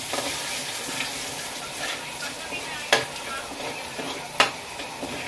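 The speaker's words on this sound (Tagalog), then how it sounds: "Igisa natin yung bawang, guys, para sa ating sinangag." Garlic for sinangag fried rice sizzles steadily in a pan, up close, with two crisp taps of a utensil against the pan during stirring and no speech.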